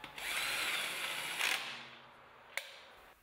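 A power screwdriver drives wheel bolts while a RoaDyn S625 measuring wheel is mounted, giving a whirring, ratcheting motor run of about two and a half seconds that ends with a short sharp click.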